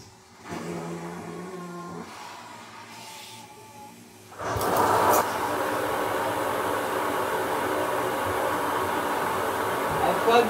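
A household central vacuum system kicks on partway through during a big-mess suction test. After a quieter stretch with a faint hum, it jumps to a loud, steady rushing roar that runs to the end.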